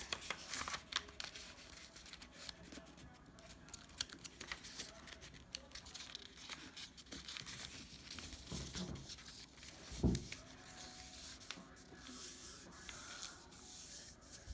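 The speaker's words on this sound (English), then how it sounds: "Now begin by folding your paper" Sheet of paper being folded into thirds for an origami Princess Labelmaker figure, with soft rubbing, creasing and rustling throughout and one sharper crisp crease near the end, all close up and without talk.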